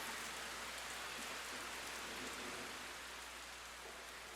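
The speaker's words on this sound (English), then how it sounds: "Rain is coming." Steady rain falls alone for the whole stretch, a soft, even hiss of drops with no voices and a slight easing toward the end.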